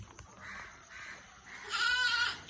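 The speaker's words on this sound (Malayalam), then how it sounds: "ഇത് ആടാണല്ലോ" A goat bleats nearby: a few soft, short bleats, then one louder, wavering bleat toward the end, with quiet outdoor background.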